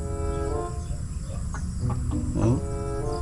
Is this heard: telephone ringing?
no